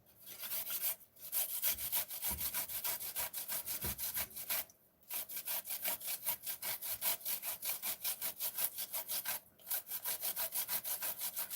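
Ginger being grated into a saucepan, a steady, rhythmic rasping of close, fairly loud back-and-forth strokes, broken by two or three brief pauses, with no talking.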